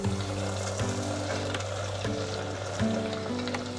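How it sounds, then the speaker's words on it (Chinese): Starch-coated tofu balls deep-frying in oil heated to 170 degrees give a soft, steady bubbling sizzle, fairly quiet, with a few faint clinks and stirs along the way. "油温到170度， 可以来炸了。"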